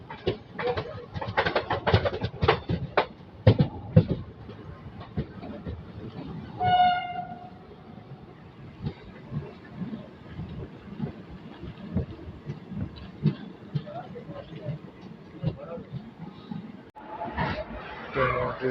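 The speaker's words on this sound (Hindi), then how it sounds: "ये बरौनी में यहाँ कोई तो एक मेमो डिपार्ट हो रही है बरौनी से" A MEMU passenger train departs from Barauni station in India, with rumbling wheels and clattering cars, a short horn blast partway through, pigeons and birds nearby, and people talking around it.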